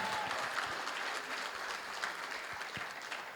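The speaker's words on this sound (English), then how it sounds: "Ladies and gentlemen, round of applause for Miss Awagai." Audience at the SHE Awards Gambia 2022 ceremony gives a sustained round of applause for an honoree, dense, even clapping from a sizable crowd that holds steady throughout.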